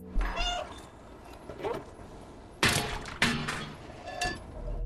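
A cat meows repeatedly in the video game Stray, loud close cries mixed with a few sharp crashing, breaking and thumping bursts, with no talking.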